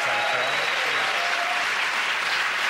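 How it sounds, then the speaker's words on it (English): Dense, loud applause from a comedy show audience, steady clapping that fills the whole stretch with some whistles mixed in. "that round of applause going to Russell, Joe and Andy!"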